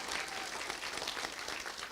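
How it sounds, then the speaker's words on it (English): Wedding guests applauding during the toasts at a Disney wedding, a dense, steady wash of many hands clapping at moderate distance, no voices over it. "Can I get a round of applause?"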